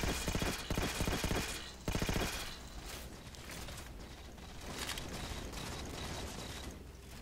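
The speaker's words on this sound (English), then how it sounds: "Let me test fire this." A weapon test-fired in Halo: The Master Chief Collection multiplayer, opening with loud rapid bursts of gunfire, then settling into quieter mechanical clatter and scattered distant shots.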